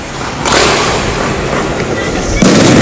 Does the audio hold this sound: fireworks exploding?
yes